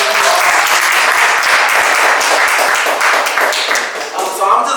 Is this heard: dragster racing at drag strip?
no